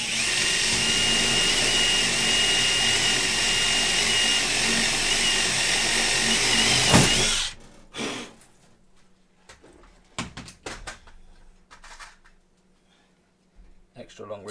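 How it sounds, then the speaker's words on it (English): Power drill boring holes through an aluminium firewall sheet, a steady loud whirring grind for about seven seconds that stops abruptly, followed by quieter clunks and handling noises. "I've got about 600 more holes to drill"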